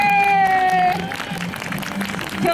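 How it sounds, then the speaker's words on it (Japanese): Fans clapping at a Chiba Lotte Marines baseball talk show held at a Tobu department store in Funabashi, a dense, moderate applause over an indoor hum with a sustained tone from the sound system. "拍手。"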